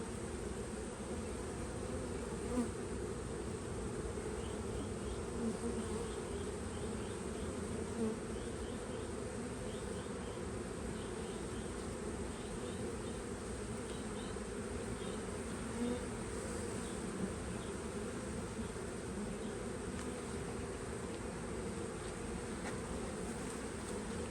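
Dense, steady buzzing of many honey bees close by in a beehive, a continuous low drone with no talking.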